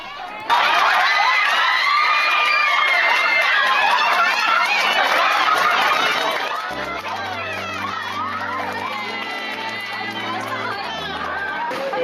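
A crowd of students cheering and shouting at a Japanese high school sports festival, loud and sustained with lots of excited chatter, fading somewhat toward the end as music plays underneath.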